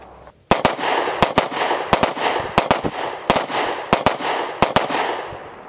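Two 9mm pistols, a Ruger LC9s and an EC9, fired together outdoors, giving a rapid run of loud, sharp shots, often in close pairs, each trailing a brief echo.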